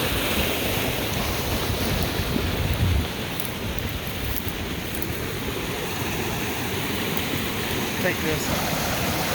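Water runs steadily down an irrigation ditch in the high desert, a continuous broad rush heard close with wind noise on the microphone, while a voice speaks briefly.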